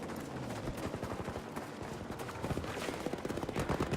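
Rapid automatic gunfire from a machine gunner in Battlefield V, dense bursts of sharp shots layered over constant battlefield noise, growing punchier toward the end.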